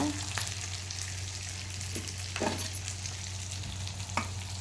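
Ginger-garlic paste fries in a pan with a steady close sizzle over a low hum, broken by a few louder scraping stirs; no one speaks.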